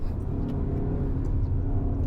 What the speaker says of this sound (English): And we have a car that's overtaking a truck.